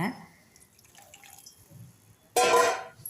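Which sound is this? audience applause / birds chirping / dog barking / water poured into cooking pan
water poured into cooking pan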